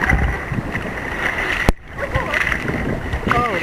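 Water splashing at Chartham Weir, heard as loud rushing and churning water close by with sudden splashes. People talk over it, and a brief dropout falls midway.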